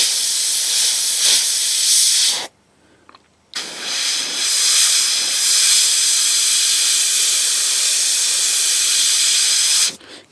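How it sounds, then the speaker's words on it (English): An airbrush sprays paint onto a Bandai 1/72 scale Y-Wing model kit, giving a steady close hiss that cuts out for about a second and then resumes, with no talking. "I do like this airbrush."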